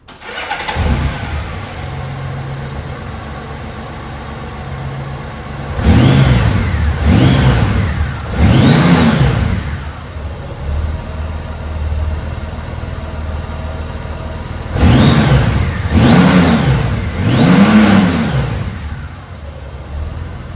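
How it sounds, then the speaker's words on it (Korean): A Honda Gold Wing 1800 touring motorcycle engine idles with a low rumble, then revs up sharply three times in quick succession, settles, and revs three more times, loud and close. "바로 엔진 사운드 확인해 보실까요?"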